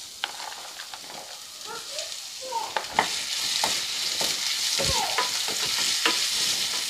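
Chopped onions sizzle steadily in hot oil in a frying pan as they are stirred in for a chicken biryani, with sharp scraping clicks of the spoon against the pan over a continuous close frying hiss; no talking.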